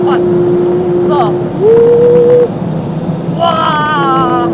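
A Porsche 991 GT3 engine holds a steady drone on the Nürburgring, then revs up with a rising roar and drops back, with a brief spoken voice near the end.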